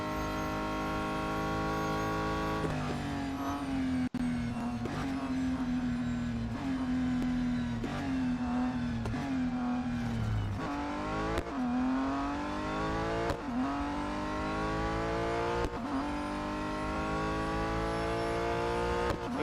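McLaren race car in the racing game Real Racing 3, a steady high engine whine with repeated gear shifts and rising revs, continuous and fairly faint, with no talking.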